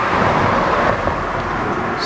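A car passes close by on a street during an outdoor Sant'Antonio festival, a loud, steady broadband road whoosh that fills the whole clip with a slight swell and fade.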